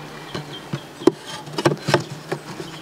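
Honey bees buzz steadily around an open beehive during a hive inspection, with a few sharp taps and knocks from the hive tool and frames breaking through the hum.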